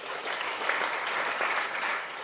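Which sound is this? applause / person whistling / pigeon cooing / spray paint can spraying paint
applause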